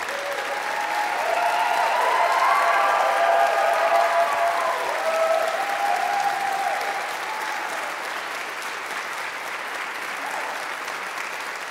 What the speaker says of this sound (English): So I'm going to let them clap a second time,